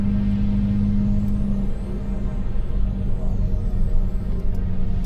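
An Audi A6 C5 with a 2.5 V6 drives along, its engine a steady loud low rumble with road and cabin noise throughout, no talk.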